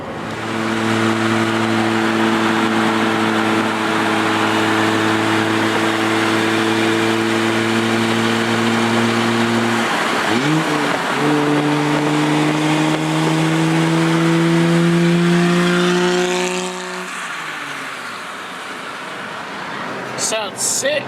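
A D1-spec JZX81 drift car's engine holds a steady high rev, steps up in pitch, then drops back toward idle, loud and close, with people talking over it.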